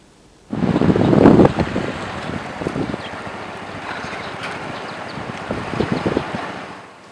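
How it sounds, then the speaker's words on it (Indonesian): Strong wind buffets the microphone, with rushing water and high waves churning around a boat at sea in bad weather off Lampung; the gusts surge loudly at the start, then ease. "terjangan angin kencang dan gelombang tinggi"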